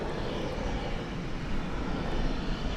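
A fixed-wing airplane at DFW Airport roars steadily with a broad, continuous engine rumble that stays loud and close throughout.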